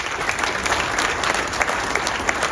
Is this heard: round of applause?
yes